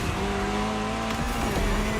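A Jaguar C-X75 hybrid concept car drives steadily, its engine holding a loud, continuous tone with a faint tire squeal, heard up close with no talking.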